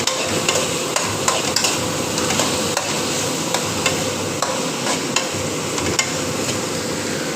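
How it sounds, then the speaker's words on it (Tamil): A spoon scrapes and clacks against a pan while mutton curry with tomatoes and onions cooks, with irregular knocks over a steady sizzling bed, close and fairly loud, no talk. "நல்லா கிண்டிகிட்டு இருக்கணும்."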